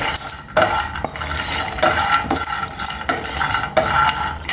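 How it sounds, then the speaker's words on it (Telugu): Coriander seeds, cumin, two cloves, a piece of cinnamon and coconut fry in a pan while a spoon stirs and scrapes the metal in repeated close strokes over a soft sizzle. "కొంచెం జీలకర్ర రెండు లవంగాలు ఒక చెక్క కొంచెం కొబ్బరి ఇవి కొంచెం ఫ్రై చేద్దామండి"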